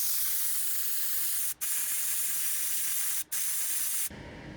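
An air compressor fills a tyre with a loud, steady hiss of rushing air, broken twice by brief pauses before it cuts off abruptly near the end.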